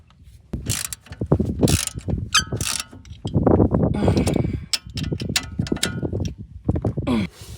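Strut assembly bolts on a 2008–2012 Ford Escape are run down with a ratchet wrench, making loud, close bursts of fast metallic clicking in several separate runs.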